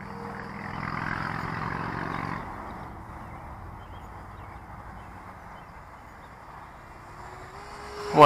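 A painted FT Viggen model jet whines overhead, loud for a couple of seconds and then fading into the distance as it flies away.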